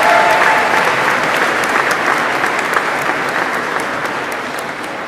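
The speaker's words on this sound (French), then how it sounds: "applaudissons nos finissantes et nos finissants" Sustained applause from a large graduation ceremony audience, dense steady clapping that fills the hall and tapers slightly toward the end.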